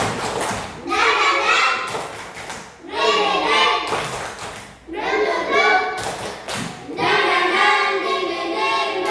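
Schoolchildren in a fourth-grade classroom doing a rhythmic spirit clap, several bursts of group clapping and chanting voices in a patterned beat, separated by short pauses.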